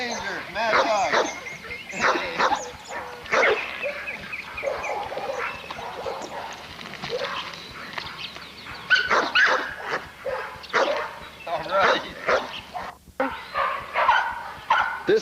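Dogs at a kennel yard bark, yip and whimper repeatedly in a busy, overlapping chorus at close to mid distance, with people talking throughout.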